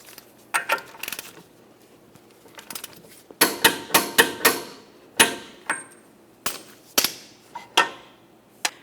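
A hammer strikes a punch to peen an axle nut into the axle groove during a rear wheel bearing and hub replacement on a 2015-2019 Subaru Outback, giving a series of sharp metallic taps, some in quick bursts, close and loud.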